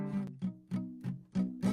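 Acoustic guitar barre chord played with fingers not pressed down properly, giving a muted, buzzing sound; six short strums in an even rhythm, close and fairly quiet, with no one talking.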